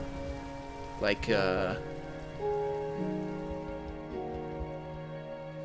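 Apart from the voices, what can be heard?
rain falling outside in a video game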